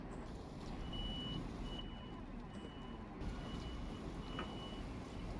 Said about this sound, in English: I don't know what that beeping is outside, but it's definitely not my train.